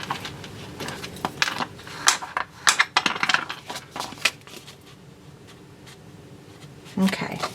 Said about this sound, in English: So I'm just going to fold that over, and you can use your bone folder if you want to.